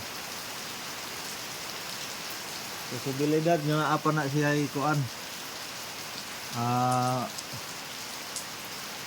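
Steady rain falls at night, a soft continuous hiss that runs under the whole stretch while someone speaks over it in short bursts.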